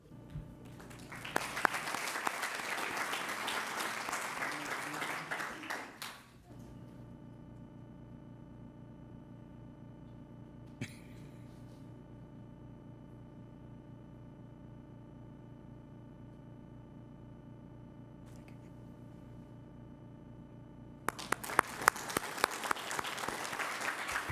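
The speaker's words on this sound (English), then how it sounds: "give you another round of applause" Applause from a school district board meeting audience honoring staff of the year, a steady clapping burst for about six seconds, then a long quiet stretch of hum, then clapping resumes near the end.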